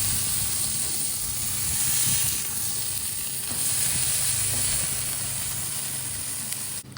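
Steaks sear on a Blackstone griddle, a steady loud sizzle and hiss that holds continuously and close, with a brief clatter near the end.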